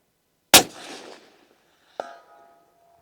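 A single rifle shot cracks out sharply, its report decaying over about a second, followed by a short metallic clank like a bolt cycling; no voices.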